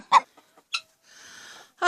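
Hen clucking just after laying a green egg on a homestead, a few sharp close squawks followed by a longer drawn-out cackle, fairly quiet with pauses between calls.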